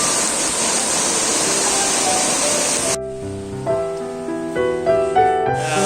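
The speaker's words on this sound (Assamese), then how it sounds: "বাবাৰ আসনৰ কাষেদি এটা সুন্দৰ জুৰি বৈ আহিছে।" Water rushes steadily beside a Shiva temple, a full, hissing stream heard up close for about three seconds before it cuts off and gives way to music.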